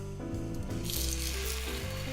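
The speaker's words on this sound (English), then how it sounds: "your frying pan should be nicely heated that you should hear that sizzle sound" Mung bean pancake batter sizzles in a hot oiled frying pan, a steady close crackle with cooking sounds and tones in the background.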